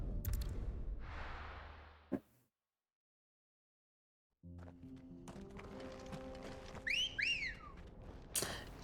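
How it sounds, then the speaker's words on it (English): Cat-call style whistle sound effect in a video game, a pair of quick rising-and-falling whistle notes heard near the end, preceded by a thunk, a stretch of silence and game ambience. "that just sounds like a cat call whistle"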